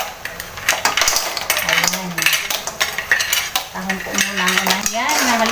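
Mussels tumble into a pan of sautéed onion with a flurry of close clattering shell clicks and scraping over a soft sizzle, and a voice briefly hums or talks faintly beneath.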